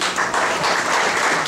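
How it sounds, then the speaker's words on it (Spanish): A crowd at a baptism party applauds loudly and steadily, a dense burst of many hands clapping together, close and continuous with no pause. "Bien fuerte las palmas."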